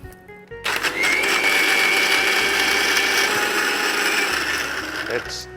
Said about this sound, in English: What I'm going to do is grind this into a fine paste with little water